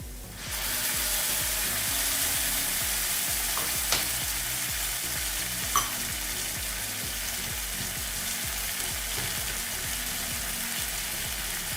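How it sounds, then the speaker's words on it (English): Ground masala paste fries and sizzles steadily in a pot for a coriander millet one-pot meal, with a constant hiss and occasional light stirring clicks, loud and close without talk. "Fry it a little bit. I'm going to add in the paste what we have grounded."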